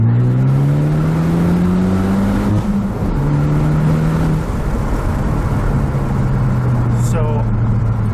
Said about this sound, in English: with the intake that I have in the exhaust is that it sounds really good